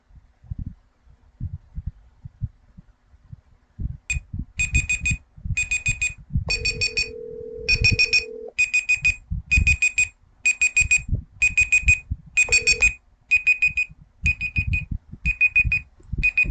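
A timer alarm goes off in repeated rapid beeping bursts, loud and steady for several seconds, with a low hum and thumping noise underneath and no talking.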